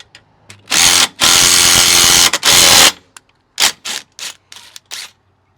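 Rivet nut tool setting a rivet nut in the frame of a CFMOTO UForce U10 Pro for a front grab handle, loud close ratcheting bursts in two long runs followed by several short sharp clicks and squeezes.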